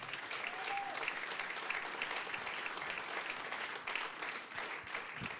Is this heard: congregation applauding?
yes